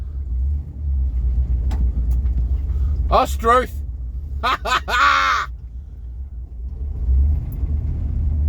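An old, cheap Rolls-Royce on its first drive, a low engine rumble running steadily throughout with a man's brief exclamations over it in the middle.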